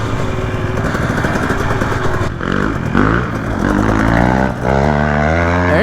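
Loud, close two-stroke and four-stroke dirt bike engines (Yamaha YZ250, KTM 250 XC, Beta 480RR) revving hard on a Brushy Mountain hillclimb, pitch rising and falling with throttle blips and gear changes throughout, no talk.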